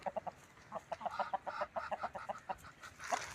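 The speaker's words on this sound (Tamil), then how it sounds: "நல்ல சேவல் செங்கருப்பு சேவல்" A red-black rooster clucking in a rapid series of short, close, moderately loud calls with a brief louder squawk at the end, no speech.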